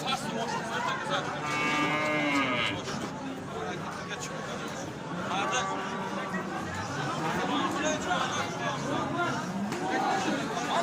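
Cattle at a livestock market, bulls and calves, moo repeatedly under constant crowd chatter and people talking, with several overlapping calls at middle distance.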